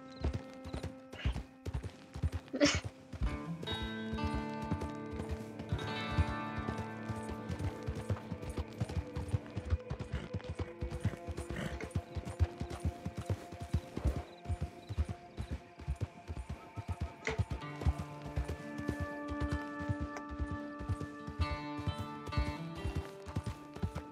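Horse hooves clip-clop steadily in Red Dead Redemption 2, a continuous close rhythmic trot of shod hooves that runs throughout over music and game ambience, with a neigh or two.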